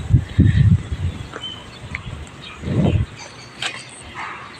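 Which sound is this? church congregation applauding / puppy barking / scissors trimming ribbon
puppy barking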